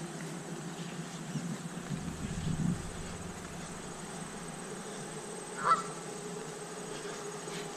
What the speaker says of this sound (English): the geese are out this morning